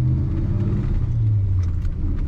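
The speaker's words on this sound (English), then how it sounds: "What a smooth running truck." A 1979 Chevrolet C20 pickup truck engine idles with a steady, low rumble, even and smooth throughout with no voices.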